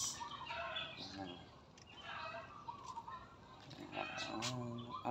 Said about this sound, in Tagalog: minsan may mga manok